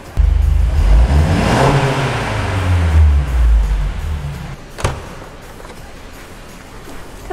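A tuned exhaust on a Mercedes-Benz C200 AMG Line W205 revs loud and close, a rising then falling blip stretched over a few seconds before easing back to a steady idle.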